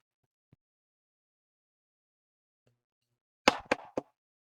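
Someone knocks on a door at home: three sharp raps close together after a long, nearly silent stretch with a couple of faint taps.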